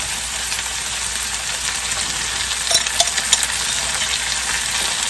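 Minced garlic sizzles in a hot pan, a steady broadband hiss. A few faint clicks come near the middle.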